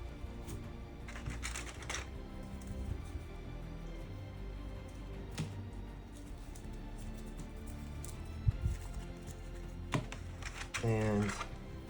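Twilight Imperium board game cards being handled, shuffled and set down on a table in soft, scattered taps and rustles, with a few louder clacks and a voice talking near the end.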